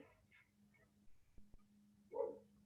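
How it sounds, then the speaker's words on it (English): A single muffled dog bark sounds faintly in the distance, as if from outdoors, amid a quiet low hum. "I can only hear my persistent dogs barking outside of my windows"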